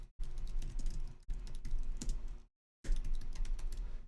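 Bursts of typing on a computer keyboard, steady runs of close clicking keys broken by two short pauses, with no talk over it.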